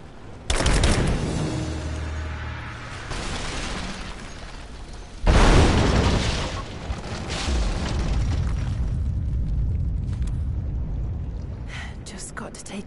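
Greek fire explosions in Tomb Raider 2: a loud boom rolls out early, a second heavy blast hits midway, and a long rumbling crackle trails off with scattered pops and game noise.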